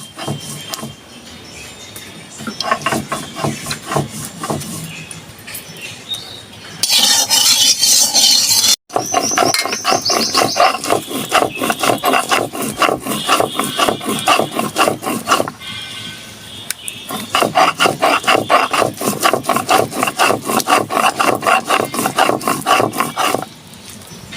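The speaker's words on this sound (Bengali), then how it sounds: "শুকনো লঙ্কা বাটবো" Dried red chillies being ground into a paste, likely on a stone, with a steady scraping rasp of repeated strokes that runs nearly unbroken for about twenty seconds and is loud and close, with a few brief pauses.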